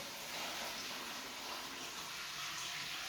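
Water pours steadily from a bucket into a small portable hand-cranked washing machine, a continuous close hissing gush with no talking.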